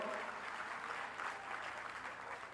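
Applause from an audience at a Brazilian public health announcement, a faint, even patter of many hands clapping steadily from start to finish with no other sound standing out.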